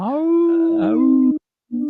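The werewolf howl from the 1941 Wolf Man film: one loud, drawn-out howl lasting over a second, then a short second burst after a brief pause.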